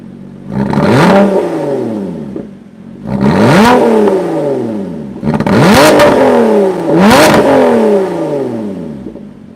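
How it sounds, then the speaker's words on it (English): A supercharged 2020 Lotus Evora GT engine in race mode with exhaust baffles open revs hard four times in a row, each burst rising to a loud roaring peak and falling back, with a raspy exhaust. "I'm going to put it into race mode, which will open up the exhaust baffles"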